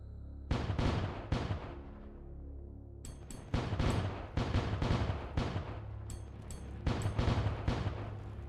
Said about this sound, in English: we can clear the path using our cannons